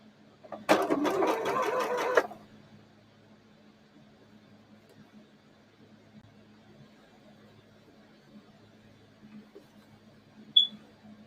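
A domestic sewing machine stitches a dart on a shirt, running one short, fast burst of needle chatter forward and back for about two seconds, then falls quiet apart from a faint low hum and a tiny click near the end.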